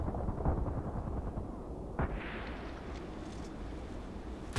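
Grenade blasts in the shooter game Contract Wars: a low rumbling bed of distant explosions with a sharper detonation near the middle, fairly quiet and without talk.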